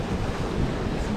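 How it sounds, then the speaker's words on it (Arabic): Sea waves wash in as a brief, steady roar of surf, blended with gusty wind buffeting the microphone. "نصور البحر نصور البحر"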